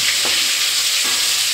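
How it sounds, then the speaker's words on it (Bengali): Fish frying in a home kitchen pan, a steady bright sizzle throughout with a couple of soft stirring scrapes, close and fairly loud, no voices. "এখন ওকে একটা মাছ ভেজে দেবো"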